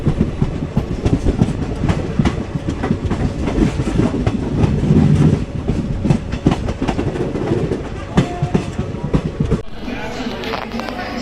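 Indian Railways 12312 Netaji Express running between Delhi and Kolkata near Kanpur Central, with a steady loud rumble and rattling clatter of wheels and carriages throughout, easing and thinning toward the end.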